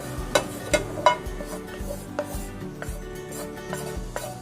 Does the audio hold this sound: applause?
no